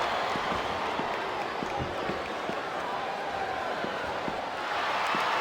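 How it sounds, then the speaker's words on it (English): A large arena crowd roars in a continuous, dense wash from the Smackdown vs. Raw 2007 wrestling video game, with faint rhythmic stomping or clapping beneath and some indistinct voices mixed in. "Listen to that chant, Taz."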